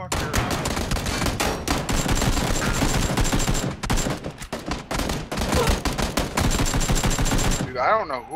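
Rapid bursts of automatic gunfire from PUBG crackle loud and close in dense volleys, with brief pauses between strings of shots, ending in a short fading tail.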